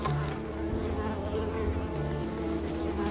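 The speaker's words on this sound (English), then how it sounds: "So many mosquitoes." A swarm of mosquitoes buzzing in the video game Unravel: a loud, continuous droning whine that holds steady throughout without a break.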